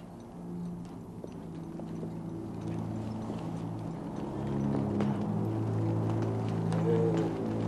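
Horses' hooves clip-clop steadily on ground outdoors, mid-distance and moderately loud, over a constant low background rumble and hum that swells slightly toward the end.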